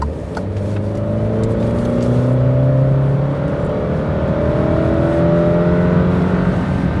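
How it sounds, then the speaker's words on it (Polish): Alfa Romeo Giulia 2.0T with 280 hp accelerating hard onto an expressway, its exhaust note rising steadily in pitch through the gears, loud and continuous from inside the car with no talking. "piękny rasowy gang z wydechu"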